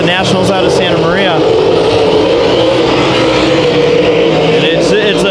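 Race cars roar around a dirt track during a heat race at KCRP, engines droning loud and continuous with passing revs rising and falling, commentators talking over the noise.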